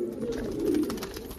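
A pigeon gives a low, soft, throaty coo close by, one short rolling call.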